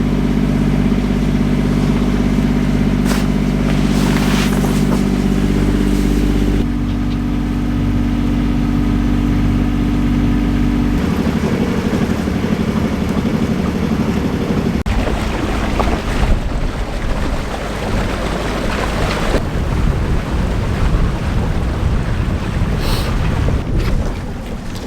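A boat moves under motor power, a steady loud engine drone with rushing water and wind noise throughout, shifting in tone partway through.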